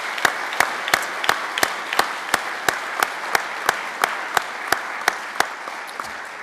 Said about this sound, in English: One more round of applause for all the students and the robots here.